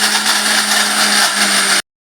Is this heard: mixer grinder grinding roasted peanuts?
yes